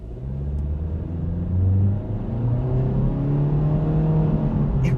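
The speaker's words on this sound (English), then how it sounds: "The standard engine is hooked up to a smooth, traditional continuously variable transmission that makes this feel lethargic off the line." A 2025 Honda Civic with its standard engine and continuously variable transmission accelerates, giving a steady, close engine drone whose pitch rises smoothly, with no gear shifts, over a low rumble.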